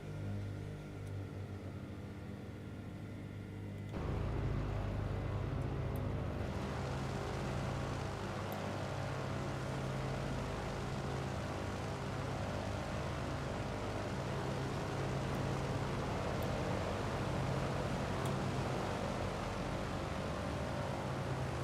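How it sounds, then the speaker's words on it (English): Douglas DC-3 propeller engines running up in Microsoft Flight Simulator, a steady droning hum that swells into a louder, fuller roar after a few seconds and holds, with no talking. "I'm just going to run the engines up to, say, 20 inches of manifold."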